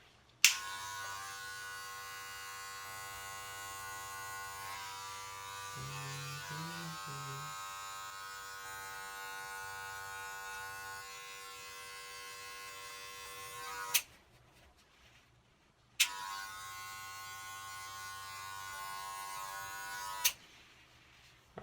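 Electric hair clippers buzz steadily while fading a self-cut, shaved-head haircut: a close, continuous whine that cuts off briefly near the end, then resumes for a few seconds before stopping.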